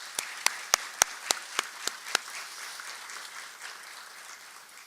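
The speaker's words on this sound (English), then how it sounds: "let's give them both a round of applause" Dinner guests at a formal banquet applaud, starting with about eight sharp, distinct claps in a row, then settling into a faint, scattered patter of clapping.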